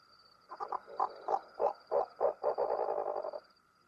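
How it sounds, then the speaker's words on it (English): Dusky horned owl calling at an Indian lake in the monsoon, a run of about eight deep, pulsing hoots that quicken into a rolling burst, heard alone against a faint steady high tone. "Both birds are intimidated by the call of the fiercely predatory dusky horned owl"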